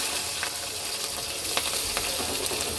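Boiled potatoes and green chillies fry in hot oil spiced with cumin, bay leaf, cardamom and cinnamon, giving a dense, loud, steady sizzle with faint stirring scrapes.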